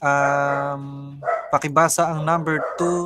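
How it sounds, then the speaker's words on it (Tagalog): A dog gives a drawn-out whine followed by several sharp barks, close by, while a person speaks briefly. "Pasensya na sa ingay ng aming bagong aso."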